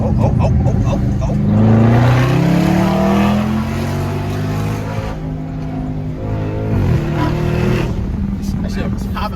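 Exhaust of a Dodge Scat Pack with a muffler delete, loud and close, rumbling with engine harmonics that rise and fall as it revs, continuous throughout, while people talk and exclaim over it.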